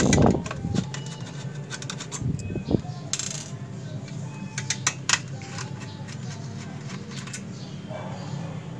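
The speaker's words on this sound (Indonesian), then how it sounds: "Setelah 4 baut kita buka" Screws being removed from the motherboard cover of a Dell Inspiron 20 all-in-one PC, heard as light metallic clicks, ticks and small rattles scattered over several seconds against a faint background hiss.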